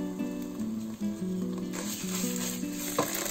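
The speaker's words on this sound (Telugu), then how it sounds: "జింజర్ గార్లిక్ పేస్ట్ కొద్దిగా ఫ్రై చేసుకోవాలి ఆయిల్లో." Ginger garlic paste sizzles in hot oil, frying for an egg potato kurma with a steady, close crackle, and a pan knock comes near the end.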